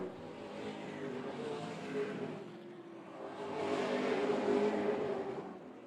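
Super late model stock cars circle the track in a distant, swelling roar that builds and fades as the pack sweeps through the turns, engines droning steadily without any speech.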